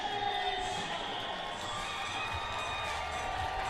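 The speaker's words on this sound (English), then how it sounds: "Listen to the roar of the crowd." A stadium crowd at a soccer match between One Knoxville SC and Charlotte Independence sends up a sustained, moderately distant roar with scattered cheers, steady throughout.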